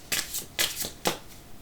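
Oracle cards being cut and shuffled by hand, heard as three quick, crisp papery riffles close up, each about a second apart, with no talking.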